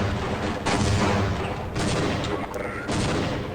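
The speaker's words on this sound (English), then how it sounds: "I throw about 4 grenades up there" Grenade blasts in the video game Half-Life, three loud, broad bursts roughly a second apart, each ringing out briefly before the next, close and heavy.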